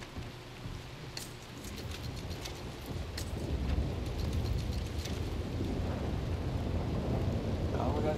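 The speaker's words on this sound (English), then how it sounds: "Oh, we're gonna get rain now after the sandstorm." Thunder rumbles over steady rainfall in a desert setting in Red Dead Redemption 2, with a sharp crack early, then dense rain hiss building and holding loud throughout.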